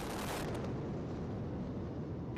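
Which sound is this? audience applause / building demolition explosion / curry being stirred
building demolition explosion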